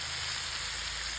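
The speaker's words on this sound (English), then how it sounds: "So I'm going to let this fry." Sausage and green beans fry in a pan with a steady, close hiss and crackle, alone and unbroken for a moment.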